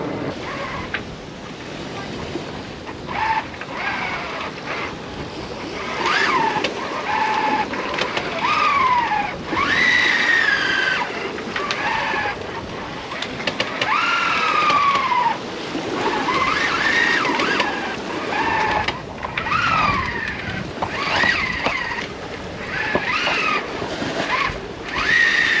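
A sailboat motoring slowly against headwind and waves in the Strait of Gibraltar, with constant wind roar and water rushing past the hull, waves slapping and surging, and occasional creaks and whistling tones over the rough sea.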